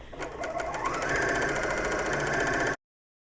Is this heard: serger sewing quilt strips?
yes